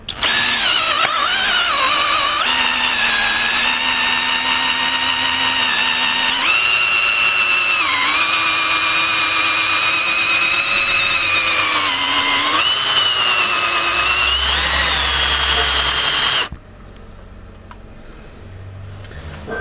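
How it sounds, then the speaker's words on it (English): A homemade, non-heat-treated drill bit bores into metal with a loud, steady high-pitched whine and grinding, the pitch wavering as the load shifts before it cuts off abruptly near the end. "It's drilling a hole, clearly."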